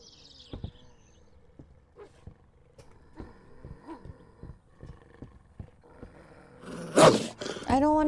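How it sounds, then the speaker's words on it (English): A growling dog in the game We Harvest Shadows, a series of low snarls and rumbling growls at moderate distance, ending in a louder roar-like outburst. "I hear a doggo."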